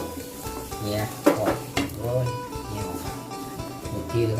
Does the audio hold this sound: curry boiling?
yes